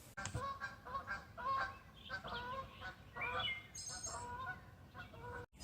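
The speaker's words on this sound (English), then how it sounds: "only thing that answered me was pair of goose" A pair of geese honk repeatedly outdoors at a spring turkey hunt, their calls coming in irregular bursts at moderate distance against a quiet background.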